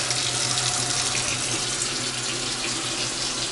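Hot water runs steadily from a stainless steel sink faucet in a constant, even rush that fills the whole stretch, close by, with no voices.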